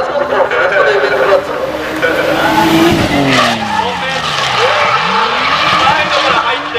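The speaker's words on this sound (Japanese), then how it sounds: "おー、ドリフトしてきましたね。" A drift car slides through a corner at Fuji Speedway short course, its engine roaring loudly and tires squealing continuously up close as it holds the drift.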